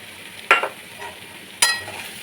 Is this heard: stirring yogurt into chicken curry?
yes